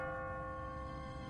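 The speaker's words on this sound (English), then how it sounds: "What kind of church bell goes off at 20 past the hour?" An automatic church bell rings on a timer in a city in The Walking Dead video game, a steady sustained tolling with rich lingering overtones that fills the whole brief moment.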